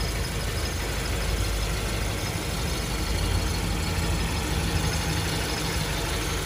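A 2011 Hyundai Avante with a 2.0 engine idles smoothly under an open hood, giving a steady, even hum at close range with no talking.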